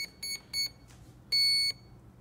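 A Proboat Zelos 36 electronic speed controller beeps during programming: three short electronic tones in quick succession, a pause, then one longer beep, crisp and close in a quiet room.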